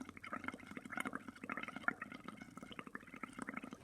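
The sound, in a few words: blowing bubbles into paint water in a bowl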